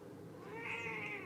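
A kitten meowing softly and purring while being held, a faint, close rumble with a brief higher mew rising toward the end, no talking over it.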